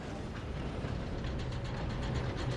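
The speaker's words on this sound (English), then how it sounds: "Come on, we need to stop this train." A moving train in the Red Dead Redemption 2 game, a loud steady rumble with rhythmic clanking of cars and wheels, running continuously with no talk.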